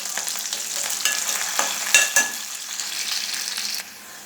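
Ginger paste sizzles hard in a pan of browned onions, a close, bright crackle with a few sharp scrapes and clicks of a spoon stirring, then the sizzle drops slightly near the end.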